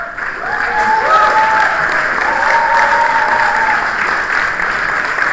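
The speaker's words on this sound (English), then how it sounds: "A round of applause for Bangladesh." A meeting audience gives sustained applause for Bangladesh at a senior-level development cooperation meeting, dense steady clapping filling the room for several seconds with no pause.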